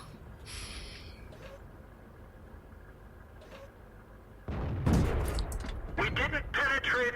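A tank cannon fires in World of Tanks, a single loud boom bursting in after a stretch of low rumbling game ambience, with sharp crackling debris and engine noise trailing behind it.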